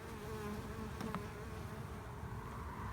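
Honey bees buzz defensively in an opened hive, a steady, droning hum of many insects close by, with an occasional louder bee passing near.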